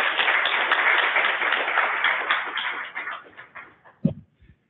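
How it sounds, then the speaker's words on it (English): A conference audience at an animal nutrition summit wrap-up applauds the speakers, a loud, dense burst of clapping that gradually thins and fades out over a few seconds, ending with a couple of isolated thumps. "If we could just please give them a big round of applause."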